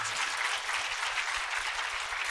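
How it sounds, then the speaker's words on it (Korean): An audience claps steadily during a church-style broadcast talk, a continuous wash of applause lasting a couple of seconds before a voice cuts in at the end. "박수하겠습니다."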